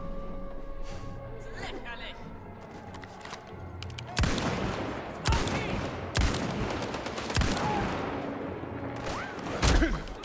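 Gunfire in Indiana Jones and the Great Circle, with several sharp, loud shots and short bursts scattered over the span, some spaced apart and others in quick clusters, mixed with game background noise and someone talking in between.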